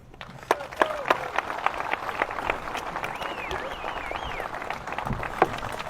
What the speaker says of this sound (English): You by far got the largest applause and whistles